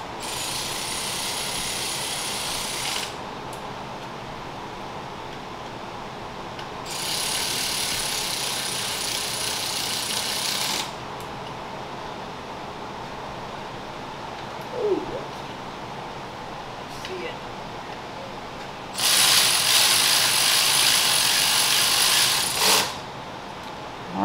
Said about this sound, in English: we're gonna go ahead and tighten down these bolts real quick